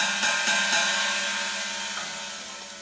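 A cheap cymbal with four holes drilled in it is struck repeatedly, giving a bright, washy metallic shimmer that rings on and slowly decays after the strikes.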